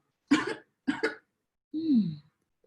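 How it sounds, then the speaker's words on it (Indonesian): Three dry coughs in quick succession, close up, the last one longer and more voiced, with silence between them. "Kamu juga lagi batuk ya?"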